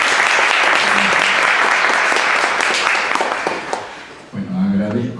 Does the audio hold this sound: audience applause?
yes